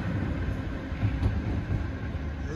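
Dublin-area 8300-series rail cars roll past quietly, giving a steady low rumble with faint track noise throughout and no distinct clatter.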